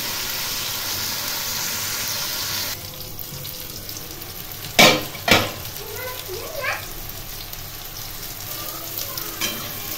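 Boiled banana flower frying in a pan gives a steady sizzle, joined by a few sharp clanks of a spatula or utensil and light stirring noises, with faint background sounds.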